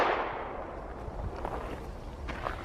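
Glock 43 pistol fired at a shooting range: a loud report at the start, then a few sharper cracks spread over the next seconds above a steady, noisy background.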